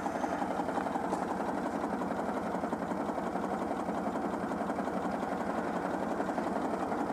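A Citroën 2CV two-cylinder engine idles steadily and close by, with a fast, even, chugging pulse that runs unchanged for about seven seconds and has no voices over it.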